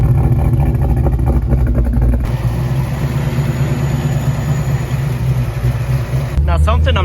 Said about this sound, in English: I personally think it sounds freaking great. The exhaust on it, amazing.